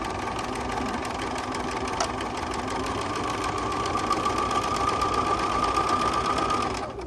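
A sewing machine stitches a quilt block straight over pins, its rapid, even needle clatter running close and continuous with a faint hum underneath, slowing and stopping at the very end.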